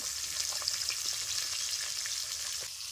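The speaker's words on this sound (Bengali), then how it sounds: "আস্তে আস্তে মাছগুলোকে ভালো করে ভেজে নেব" Bata fish frying in hot oil sizzle with a continuous close crackling hiss, occasional faint pops and stirring, steady and without voices.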